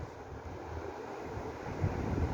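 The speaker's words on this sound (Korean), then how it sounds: "지금 바람 많이 불어요" Strong wind blowing outdoors beside a hanging rack of succulents, a steady roaring rush of buffeting against the microphone that swells slightly toward the end, with no voices.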